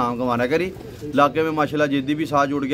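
Pigeons cooing on a rooftop loft, soft throaty coos running underneath someone speaking steadily in Hindi-Urdu.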